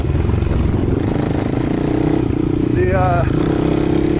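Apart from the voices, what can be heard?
Suzuki LT-R450 quad engine running in second gear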